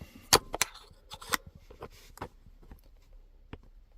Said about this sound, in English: you hear that clicking sound